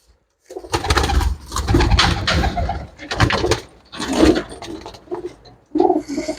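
Pigeons of a flying breed, with black and reddish eyes, coo in a steady run of soft, throaty calls, close by and fairly loud, with brief pauses between bursts.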